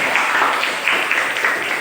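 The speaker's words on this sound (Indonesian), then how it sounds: "tepuk tangan untuk Putri" A classroom of students clapping for a classmate, a steady, dense patter of hands throughout, fairly close and alone without talk.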